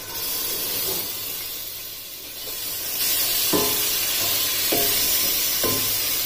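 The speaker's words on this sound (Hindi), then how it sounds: "अब उसी ऑयल में लहसुन और अदरक का पेस्ट जो हाफ रखा था वो इसमें डाल देना है" Garlic and ginger paste dropped into hot oil for Mughlai changezi chicken, giving a steady loud sizzle that swells as the paste hits, with a few clinks of a spoon stirring the pan.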